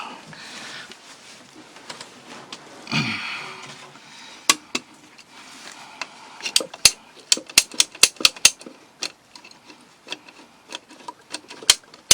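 Saw cutting through a plumbing pipe during a repair, heard as a series of sharp, irregular clicks and snaps that grow denser toward the end, with a brief low thump early on and quiet background noise.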